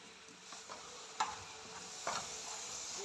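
Flattened rice (aval) being stirred into boiling jaggery, a soft steady sizzle with scraping stirs and a couple of sharper clanks of a spoon against the pan, no voices.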